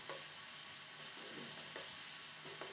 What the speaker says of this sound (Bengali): টমেটোটা এইভাবেই দিলাম নেড়ে চেড়ে মশলাটা কষিয়ে নিচ্ছি